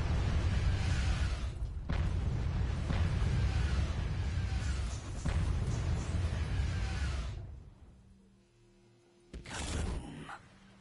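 In Call of Duty Black Ops on the zombies map Ascension, a deep booming blast rumbles for several seconds with sharp bursts layered on top, then drops away, followed by a second shorter burst near the end.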